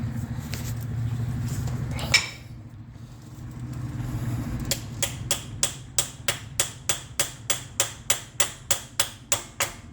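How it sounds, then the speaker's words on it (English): A steady run of sharp metallic hammer taps seating a driver-side CV axle on a 2008 Nissan Altima, evenly spaced and close, following a stretch of low engine-like hum and a single louder knock. "always give it a little love tap with the hammer so it seats all the way in"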